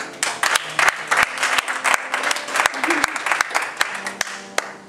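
A church congregation applauding, a dense burst of claps with sharp individual hits ringing through the room, loud and close, with some voices mixed into the clapping.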